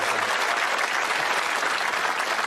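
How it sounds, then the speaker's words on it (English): On a 1987 Bullseye game show, the studio audience breaks into a loud, dense wave of applause and cheering that stays steady through the whole moment. "Let's give the Irish a little cheer."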